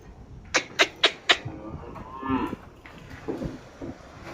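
A cow in a cattle shed moos four times in a quick regular series near the microphone, followed by softer lowing calls and faint shuffling, with no speech.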